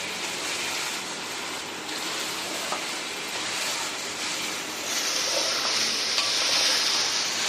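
Rice and lentils frying in a pan on medium heat for khichuri, a steady close sizzle with soft stirring scrapes, growing slightly louder toward the end, no talking.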